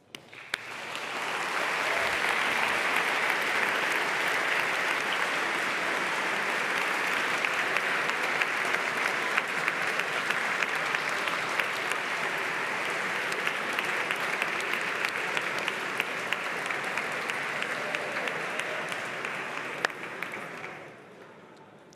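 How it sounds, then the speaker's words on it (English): An audience at a closing ceremony applauds the honorary mention recipients: dense, steady clapping from a large crowd that keeps a constant level for about twenty seconds before it stops abruptly. "let's give a huge round of applause to all of those who are in this category of honorary mentions"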